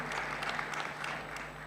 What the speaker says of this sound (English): So a round of applause for the women in film who are making it work for us.